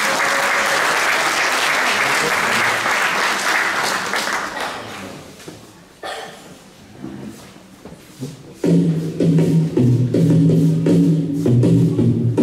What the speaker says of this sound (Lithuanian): Pasitikime juos garsiais plojimais.